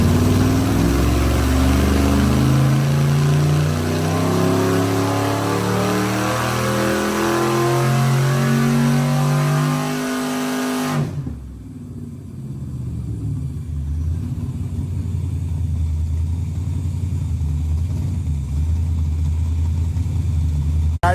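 A 440 cubic inch LSX V8 in a sand car with a sequential transmission revs hard and loud with stepped, climbing tones, then drops to a deep steady rumble near the microphone.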